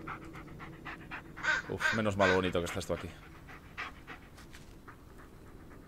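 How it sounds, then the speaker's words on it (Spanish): In the Blair Witch video game, the dog Bullet pants in quick rhythmic huffs, close and clear, while someone speaks Spanish over it. "Y el perro nos calma."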